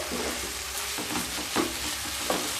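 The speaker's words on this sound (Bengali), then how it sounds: "নুডলস দিয়ে খুব ভালোভাবে মিশিয়ে নিতে হবে" Boiled, drained Hakka noodles are tossed and mixed in a hot pan, giving a continuous sizzle broken by a few scraping stirs of a spatula over the brief stretch, with no voices.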